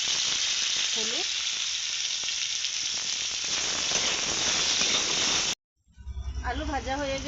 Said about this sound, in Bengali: আবারও কড়ার মধ্যে তেল দিয়েছি, আলুগুলো ভেজে নেব।